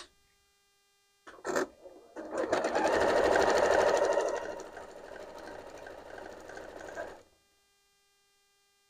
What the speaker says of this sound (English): So I'm going to sew a 1/4 inch on this side.